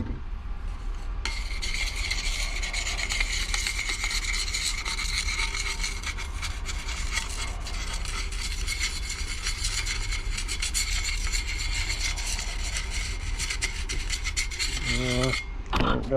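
Sandpaper rubs steadily and hard against a Jeep Renegade front brake rotor in a continuous, close scraping rasp, ending with a short clatter.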